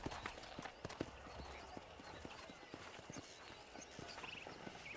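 Horse hooves clip-clop at a steady walking pace in Red Dead Redemption, moderately close over a constant outdoor ambience, with faint game sounds in the background.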